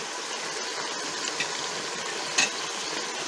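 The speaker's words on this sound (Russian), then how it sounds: "На большом огне жарить." Meat for Uzbek plov frying over high heat, giving a steady, dense hiss and sizzle close up, with a couple of faint clinks partway through and no voices.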